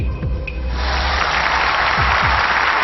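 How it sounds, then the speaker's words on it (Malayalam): Applause for two finalists at a singing reality show finale rises after a brief lull, becoming dense, steady clapping from a large audience across the rest of the moment. "എല്ലാവരും നന്നായിട്ട് കൈയടിച്ച്"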